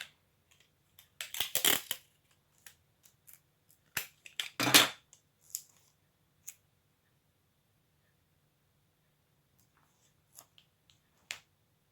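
Brief crackling rips and sharp snaps of adhesive tape being torn come in two short bursts, then scattered faint clicks and taps of tape being applied in a quiet room.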